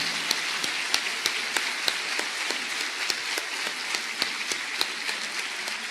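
Church congregation clapping for a steady stretch, a dense crackle of many hands with sharper individual claps popping out at irregular moments, no talking over it.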